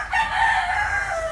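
A Tagalo fighting rooster gives one sustained, loud crow held steadily close by, with no other voices around it.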